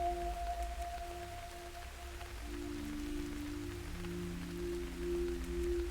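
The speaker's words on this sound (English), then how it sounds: "Obviously it's raining now, so we're going to wait for it to stop raining." Steady rain patters in the video game Radiation Island, a soft, even wash of falling drops with low tones humming beneath it and no talking.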